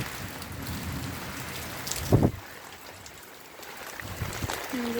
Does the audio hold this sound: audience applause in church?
no